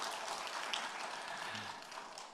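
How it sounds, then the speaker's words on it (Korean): Soft applause from a church congregation during an early-morning special prayer service, a quiet, even patter of many hands that gradually fades. "우리 씩씩하게 잘 읽어준 병무에게 격려의 박수를"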